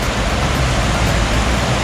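Cold glacier meltwater stream rushing loudly and steadily, a dense broadband roar of turbulent water heard up close with no pauses.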